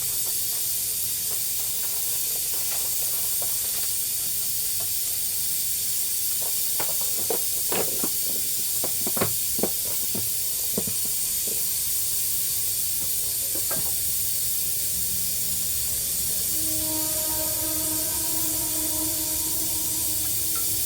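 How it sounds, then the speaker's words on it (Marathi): Mutton with black pepper and garam masala sizzles as it sautés in a clay pot: a constant hiss with scattered clinks and scrapes of stirring, with a few faint tonal squeaks near the end. "चांगलं असं हे परतून घेऊया आपण."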